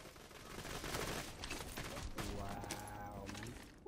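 Very rapid, sustained gunfire from a high fire-rate gun in Borderlands 2 on PS3 rattles on throughout, quiet in level, with a tonal whine building in the second half.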